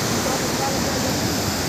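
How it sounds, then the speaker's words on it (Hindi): Water pours steadily over Ruguda dam near Bonai, Rourkela, a loud continuous rushing roar with no breaks, close and dominating. "पानी बह रहा है।"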